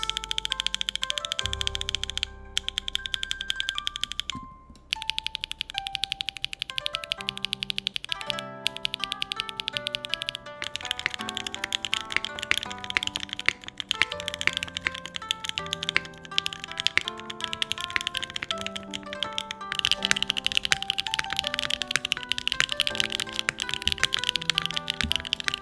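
Typing on a Neo 65 Core Plus mechanical keyboard with HMX K01 light tactile switches, rapid clacking keystrokes over music, with no talking.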